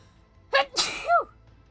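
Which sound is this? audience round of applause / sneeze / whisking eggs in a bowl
sneeze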